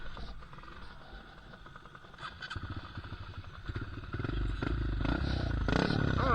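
A cheap pit bike's small engine revs and rises, growing louder and more sustained toward the end, with a rough mechanical clatter underneath.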